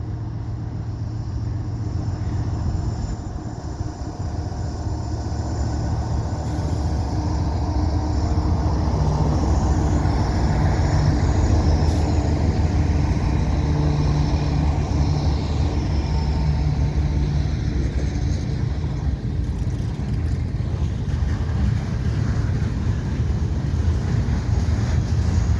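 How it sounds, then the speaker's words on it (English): Two CN freight trains, one westbound and one eastbound, meet near the Lachine Canal bridge approach in Pointe St Charles in winter, making a loud, steady low rumble with clattering wheels throughout, with no talk. "So westbound and an eastbound train"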